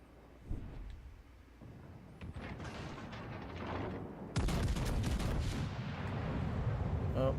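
Warship gun salvos boom in the naval video game World of Warships Legends, a low thud followed by heavier rumbling volleys that grow louder and denser toward the end.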